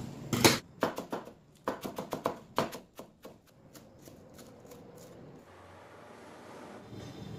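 Green onion and two kinds of coriander chopped finely with a knife on a board, a quick run of sharp close taps in uneven bursts that thins out and ends in low background noise.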